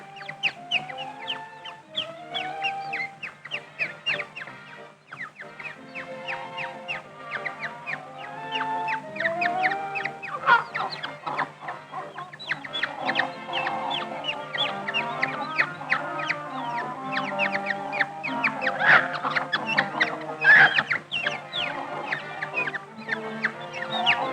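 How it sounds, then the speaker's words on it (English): A hen and her chicks cluck steadily in a basket, with repeated clucks from the hen mixed with higher peeping, close and continuous with no talking. "he finds that a hen and her chicks are in there"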